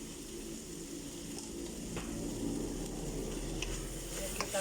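Chopped garlic stirred into an Egyptian spinach beef stew in a hot pan, a steady close sizzle and bubbling with soft scraping of the stirring utensil, no talk.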